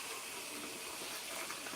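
A cup of water pours into a container while shrimp and snow peas are being cooked, giving a short, steady, splashy hiss close by.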